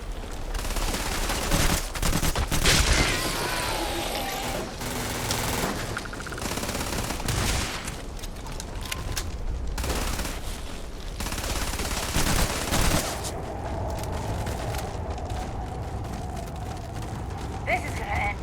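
Chaotic firefight in the game Starfield, with dense overlapping bursts of gunfire and booms under frequent shouting voices.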